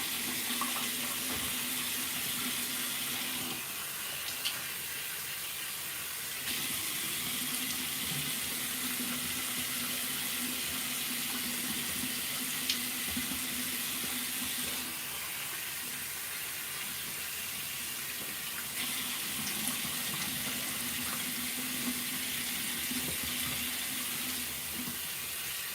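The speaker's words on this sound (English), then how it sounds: "I just do it and then rinse it off." Tap water runs steadily into a sink while face exfoliant is rinsed off, a continuous close splashing flow with a low hum, with no speech.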